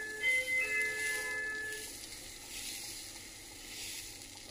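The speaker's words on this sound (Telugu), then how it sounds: "పెసరట్టు వేస్తున్నాను చూడండి" Thin mung bean dosa batter hisses faintly on a hot griddle with no oil, a soft steady sizzle with a few brief tonal rings early on.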